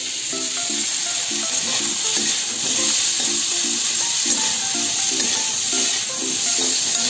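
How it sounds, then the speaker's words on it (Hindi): Peas and tomatoes frying in a pan give a loud, steady sizzle and hiss that holds for several seconds, close up, with a faint repeating tonal pattern underneath. "सारी सब्जियां अच्छे से फ्राई हो गए हैं"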